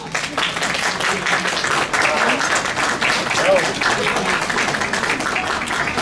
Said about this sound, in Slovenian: Gospe in gospodje, zaploskajmo nocojšnji gostiteljici, gospe Marini Bilaš.